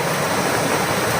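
Spring water gushing strongly from rocks at a natural spring in a stream, a loud, steady broadband rush close by with no break.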